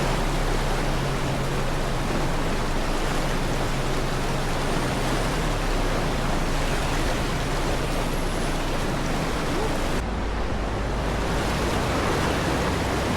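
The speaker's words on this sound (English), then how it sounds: "This is a restored watermill situated on the River Itchen in the centre of the ancient English city of Winchester." Water rushes steadily through a restored watermill on the River Itchen in Winchester, a dense, constant roar that stays loud and unbroken throughout, with no voices.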